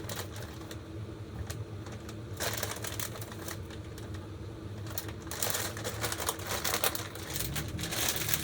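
A knife chops a handful of blanched green beans on a cutting board in a home kitchen, giving a steady run of close, quick cuts over a low background hum.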